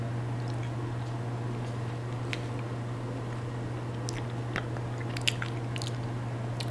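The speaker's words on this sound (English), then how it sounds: "I threw some cheese in there and this is going to be my first bite." Someone bites and chews homemade gnocchi with cheese, with soft, close, wet chewing and small crunching sounds over a steady low electrical hum.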